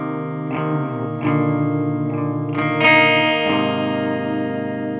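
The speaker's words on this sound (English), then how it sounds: "So you have to start introducing some kind of drive to listen to the pedal." Electric guitar played through an Empty Head Effects External/Internal modulation pedal with drive, giving sustained, distorted, wobbling chords that are struck several times and ring out loud and close with no talking.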